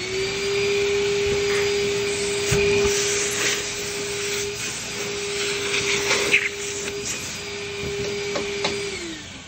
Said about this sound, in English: get my vacuum out